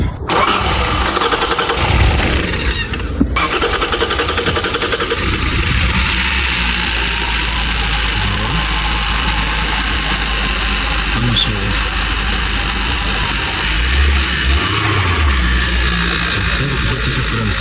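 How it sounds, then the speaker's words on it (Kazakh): A 2020 Hyundai Santa Fe with a 2.0 turbo GDI engine, just back from a full overhaul, cranks briefly and fires up, then settles into a smooth, steady idle close by while people talk over it. "мінекей бисмиллах деп алғашқы оталын көрейік"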